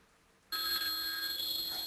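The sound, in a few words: telephone ringing with an incoming call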